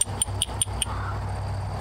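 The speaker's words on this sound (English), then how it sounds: "They've still got a little bit of metallic content in them, which is why they sound like this." Chunks of metallic smelter slag clink together in four or five sharp, ringing knocks with bright metallic overtones, close and distinct against a low steady hum.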